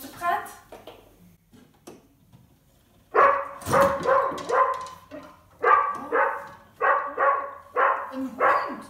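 A voice imitates a dog barking, giving a quick cluster of woofs and then a steady run of rhythmic, evenly spaced barks. The sound is close and clear against a quiet background.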